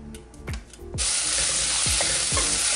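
Chopped onions and green chillies tip into a hot frying pan for a bitter gourd curry: after a few knocks and clinks, a loud, sudden sizzle bursts out close by and keeps going steadily, with occasional utensil taps.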